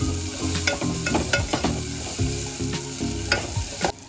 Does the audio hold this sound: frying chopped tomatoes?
yes